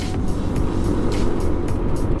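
Dense, continuous road traffic rumbles on the C5 road, with car engines and tyres droning close by in a loud, unbroken wash and passing vehicles swelling now and then.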